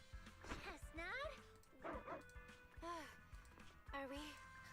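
Dog barks and yips under a busy mix of music, effects and talk in a game scene where a dog sniffs out clues, several short calls spread across the moment.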